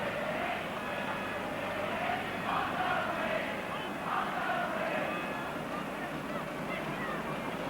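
A 1967 football crowd at Coventry City against Bolton Wanderers roars in a broad, continuous wash of distant voices, rising and swelling in waves.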